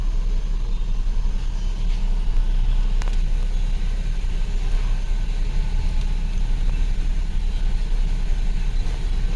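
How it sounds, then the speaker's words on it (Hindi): A Mercedes-Benz W221 S-Class engine idles after its ECM has been replaced, a steady low rumble and hum that stays even and close throughout with no voices. "तो हमने गाड़ी अब स्टार्ट कर दिया ECM रिप्लेस करके।"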